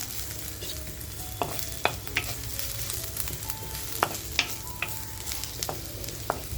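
Onion frying in a clay pot over a slow flame, a soft continuous sizzle with occasional stirring scrapes and light knocks, close and moderately quiet.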